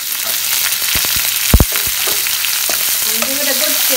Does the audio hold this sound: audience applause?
no